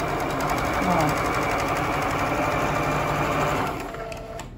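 A sewing machine runs continuously for about four seconds, stitching the edge of a fabric pet bed with the presser foot riding on top, a steady close-up whir that tapers off at the end with someone speaking over it.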